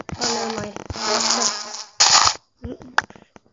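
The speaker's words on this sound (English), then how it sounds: "Yes. You're my pet bee." A bee buzzes in the video game Minecraft, in close continuous bursts that break off and return with short gaps in between.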